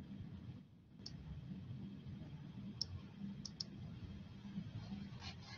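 A few sparse, faint computer keyboard taps and mouse clicks sound over a steady low hum while someone works in 2D sketching software, scattered single clicks rather than continuous typing.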